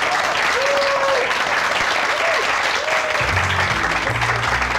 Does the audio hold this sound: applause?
yes